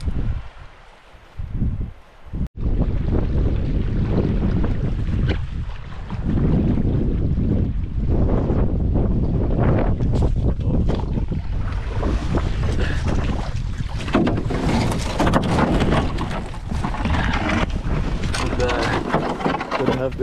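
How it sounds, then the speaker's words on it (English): Strong wind buffets the microphone on a river during a canoe trip, a loud continuous roar with gusting swells and water wash throughout. "Pretty windy day."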